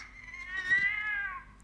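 A cat gives a single drawn-out meow close by, rising and then falling away over about a second against a quiet indoor background.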